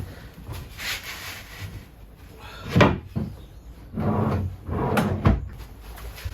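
A wooden drawer-front frame is knocked and pushed into place inside a Mercedes van conversion, giving several dull wooden thumps and rubbing scrapes at close range, with no talking.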